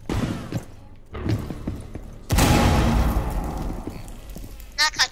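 A frag grenade thrown and exploding in Rainbow Six Siege, with scattered thumps and gunfire before a sudden loud, sustained blast that rumbles and fades, and voices speaking over the game.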